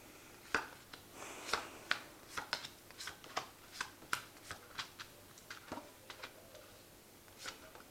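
A deck of tarot cards being shuffled by hand, a run of sharp riffling snaps and soft slides in quick irregular bursts, close and fairly quiet with no voices.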